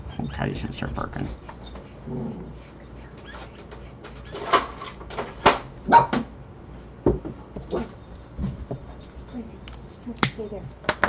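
A dog barks in several sharp bursts, loud and close, with speech at the start and light rustling between barks.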